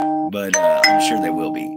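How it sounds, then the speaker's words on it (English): Notification bells ring out as a sustained tonal chime from a computer or phone, heard beneath a person talking close by. "I do apologize if you guys hear constant bells going off"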